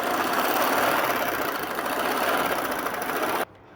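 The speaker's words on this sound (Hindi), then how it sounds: "दोनों साइड से इलास्टिक को पकड़ के खींचेंगे और साथ ही हम इसकी सिलाई लगा देंगे" A sewing machine stitches elastic onto a trouser waistband in one continuous, loud, close whirring run that stops abruptly near the end, leaving silence.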